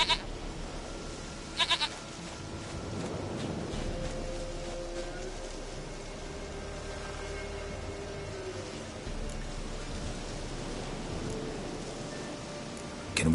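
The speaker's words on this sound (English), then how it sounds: "Goat of mine, dearest, sweetest goat." A goat in The Witcher 3 bleats in short wavering cries early on, over a soft rain-like ambient wash, with another faint bleat near the end.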